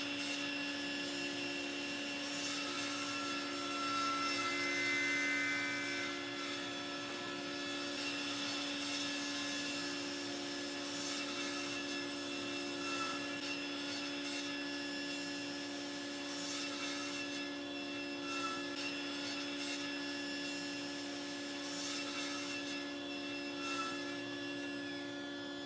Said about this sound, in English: It took a while to sand the board down, and of course you want to sand it evenly so there's no rocking.